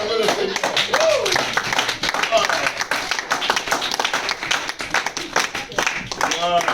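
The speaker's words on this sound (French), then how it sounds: "Est-ce qu'on peut acclamer le Seigneur?" A church congregation breaks into sustained clapping and cheers during a French-language children's Bible lesson on God creating the animals and man, loud and dense throughout, with voices calling out over the applause.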